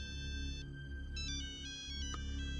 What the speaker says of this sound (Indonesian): Itu juga HP bekas yang nada deringnya masih monofonik.